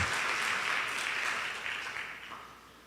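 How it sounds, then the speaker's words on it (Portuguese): A church congregation applauds, a broad wash of clapping that starts strong and slowly fades over a few seconds, fairly distant and soft, with no speech over it. "Se vai aplaudir então, como diz o pastor Toninho, aplauda forte"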